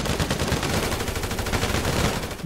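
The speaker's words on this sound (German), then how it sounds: "Hier müssen wir wieder schießen, wie es aussieht." Rapid automatic gunfire from a shootout in GTA V Online. Dense, continuous bursts of shots fill the whole stretch at close range, with no talk.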